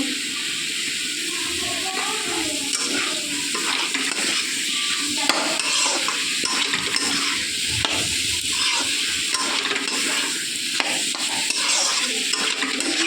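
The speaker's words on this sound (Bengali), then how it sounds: "দিয়ে ভালোভাবে নেড়ে ছেড়েই মিশিয়ে নিয়েছি" A prawn and taro stem curry with a little garam masala is stirred in a pan, steady scraping strokes over a constant low sizzle and hiss, close and moderately loud, with no talking.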